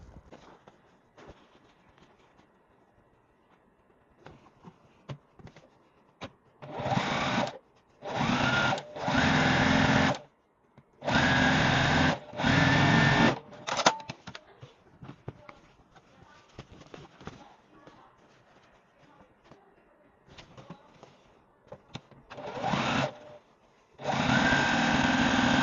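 Sewing machine joining the last two pieces of a beginner sampler quilt block, several short bursts of loud, steady stitching separated by pauses, with faint handling noise in the gaps.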